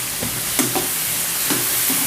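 Onion and capsicum sautéing in a pan for chilli chicken, a soft steady sizzle with a few light scraping stirs at regular intervals, close up with no talking.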